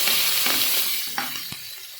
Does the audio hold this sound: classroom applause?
no